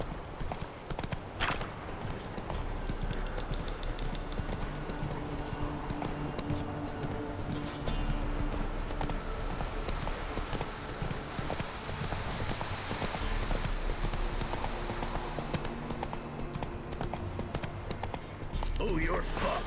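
Roach, Geralt's horse in The Witcher 3, gallops with a steady rapid clip-clop of hooves throughout, mixed with game ambience and talking voices over the top.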